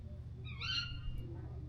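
A single owl call rings out clearly on the Lipno treetop walk in the Czech Republic: a short, wavering hoot over a low steady background hum.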